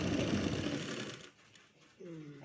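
A sewing machine stitches in a fast, dense whirring run for over a second, stops, then briefly starts again, with a person talking in between.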